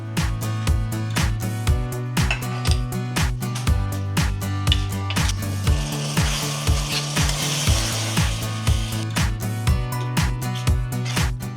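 Curd being stirred into soaked tamarind juice for a spicy brinjal curry, with steady rhythmic scraping and stirring strokes close up, loud and continuous with no talk.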